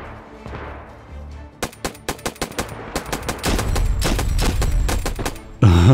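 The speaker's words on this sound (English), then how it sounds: "I just got a kill with that AR-9." AR-9 rifle gunfire in the video game DayZ, a quick run of sharp shots followed by sustained heavy firing, loud and close, ending in a burst of louder noise.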